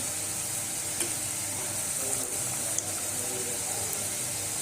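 Vada pav potato vadas deep-frying in hot oil, a constant hissing bubble close by with a few faint clicks, no voices.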